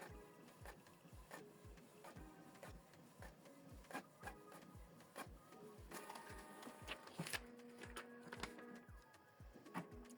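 A Canon PIXMA MG3650 printer prints a test page with steady rhythmic clicks and mechanical whirring, the paper-feed motion repeating evenly throughout at close range.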